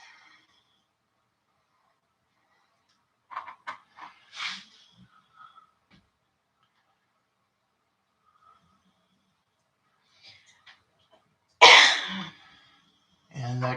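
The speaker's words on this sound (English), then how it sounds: "And that cough is my wife" A woman in another room coughs in short, separate bursts while working on a craft project, faint and muffled at first, then one louder fit near the end, with quiet stretches between.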